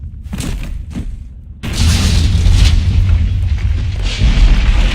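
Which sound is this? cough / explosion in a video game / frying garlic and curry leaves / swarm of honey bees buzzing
explosion in a video game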